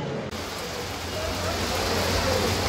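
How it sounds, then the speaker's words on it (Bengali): Light rain falls near the Swargadwar bridge in Puri, Odisha, as a steady, even hiss that fills the short stretch without a break. "আর পুরীতে টিপ বৃষ্টি পড়ছে।"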